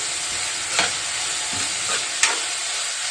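Tomato, green chillies and curry leaves frying in desi ghee, a steady close sizzle broken by a few louder scrapes and stirs of the spoon against the pan, with no talking.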